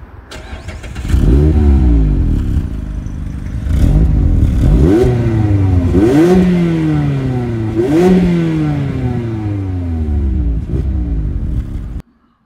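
A Mazda MX-5 RF roadster starts and revs repeatedly, rising in pitch before dropping back to idle, loud and close throughout before cutting off at the end.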